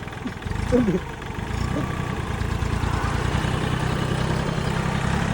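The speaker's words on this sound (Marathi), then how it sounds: "नंतर मी पुन्हा ट्रॅक्टरवर बसलो आणि ट्रॅक्टर सुरू झाला." A diesel tractor engine starts and settles into a steady, close, low idling rumble that holds evenly to the end.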